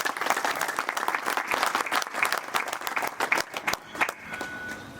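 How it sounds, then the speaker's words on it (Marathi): A crowd at a farmers' honouring ceremony breaks into lively clapping, many close hands in a dense burst that thins out toward the end, with some voices underneath. "हो, वाजवारे टाळ्या."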